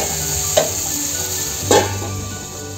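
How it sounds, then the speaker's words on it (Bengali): Spices and chilli sauté in a covered pan, a steady loud sizzle with two brief metallic clinks from the pan, close and without talk. "এইভাবে ঢাকা দিয়ে দিয়ে এটাকে আমি কষতে দেব।"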